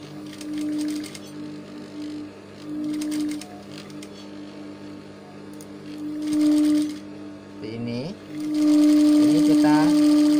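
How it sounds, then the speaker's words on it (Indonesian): Sewing machine stitching layers of fabric in several short bursts of rapid needle clatter, close and clear, separated by pauses as someone talks over and between the runs. "Ini kita jahit terlebih dahulu ya, supaya kainnya tidak"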